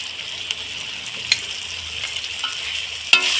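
Spice masala with turmeric frying in a pan while being stirred, a steady soft sizzle with occasional light scrapes and a sharper clink near the end, close and unaccompanied by talk.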